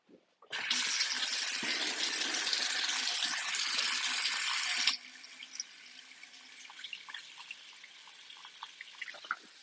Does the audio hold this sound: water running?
yes